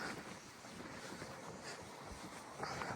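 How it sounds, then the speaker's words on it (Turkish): Wind blowing and buffeting the microphone, a broad rushing noise that swells and gusts, with a sharper gust near the end. "Rüzgar esmeye başladı."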